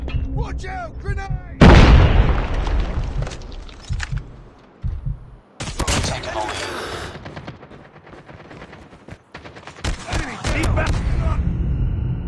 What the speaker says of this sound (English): Watch out! Grenade!